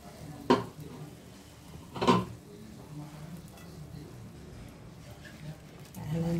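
Meat dropped into a pan of tempered spices and stirred, with two sharp clanks of a utensil against the pan followed by soft scraping and a faint sizzle, while a voice talks quietly.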